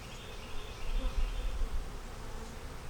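Honeybees buzz steadily around a hive, a dense, continuous hum that swells slightly in the middle, with no voices present.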